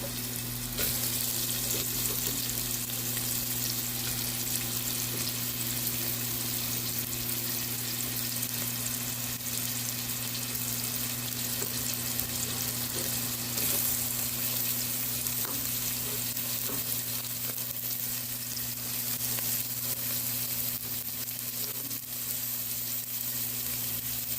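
Onions, pimento pepper and fenugreek seeds fry in olive oil in a pot for a Trinidad-style chicken curry, giving a constant, even sizzle that stays close and unbroken throughout.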